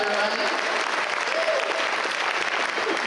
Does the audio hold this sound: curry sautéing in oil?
no